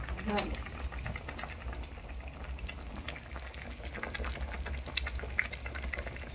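A dried fish (sukkat) curry bubbles at a boil in the pot, a soft, uneven burble with scattered pops heard close, while a voice speaks intermittently over it.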